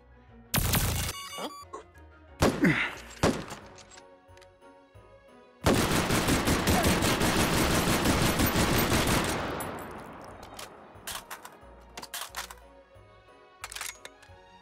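Laser pistol gunfire inside the Hot Dogs, Horseshoes & Hand Grenades VR game: a few loud, sharp bursts early, then a sustained roaring volley of fire that tails off into scattered single shots, with no talk.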